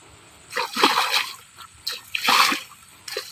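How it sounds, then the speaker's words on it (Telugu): Feet washed in a small, shallow pond beside muddy ground in green countryside, raising splashy water sounds in three bursts: a longer one, a second, then a brief final splash. "ఇక్కడ ఏదో వాటర్ ఉందో కడుక్కుంటాను కాలు"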